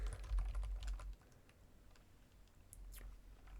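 Quiet keystrokes tap on a computer keyboard while entering an SQL query, a quick cluster of clicks at first, then sparser scattered taps, close and faint.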